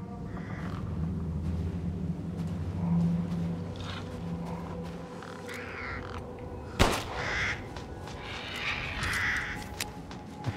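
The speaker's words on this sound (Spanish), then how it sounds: "cuervo que también se puede matar" A crow caws in the Resident Evil Village video game, several harsh calls over a low ambient drone, with a sharp thud partway through and faint background noises.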